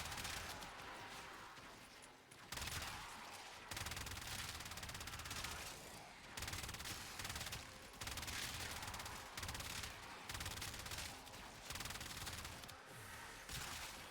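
The Phenmor Incarnon gun from Warframe fires in loud, continuous rapid bursts, broken by brief pauses, across about fourteen seconds.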